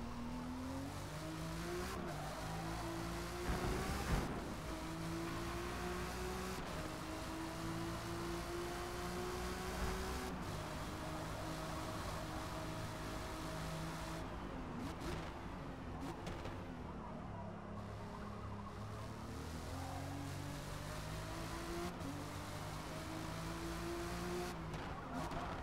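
Race car in Forza Motorsport during a lap of a race, engine droning steadily with pitch rising and falling through gear shifts, plus tire squeal and skidding through turns, continuous and loud with no talking.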